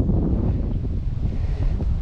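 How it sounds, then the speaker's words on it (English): Strong wind buffeting the microphone outdoors at a wedding photo shoot, a loud continuous low rumble with gusty fluctuations throughout. "Ooh, the wind."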